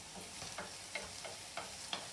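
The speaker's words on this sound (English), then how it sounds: "we can always add a pinch of salt to the onions while it's frying" Onions frying in a pan with a pinch of salt, a faint soft sizzle with a few light stirring taps, quiet and alone.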